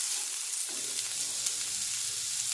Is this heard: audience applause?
no